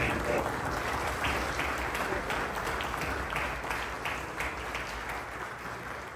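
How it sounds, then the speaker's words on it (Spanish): Audience applause at a Honduran tobacco industry event, a dense, sustained burst of clapping that slowly tapers off, with a voice faintly present beneath it. "Un fuerte aplauso."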